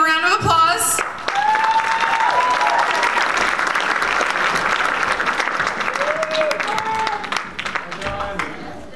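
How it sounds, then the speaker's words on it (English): A crowd applauds performers who placed third at a high school Mr. DHS 2024 pageant, steady loud clapping with cheers, a few whoops rising above it and voices calling out. "give them a round of applause."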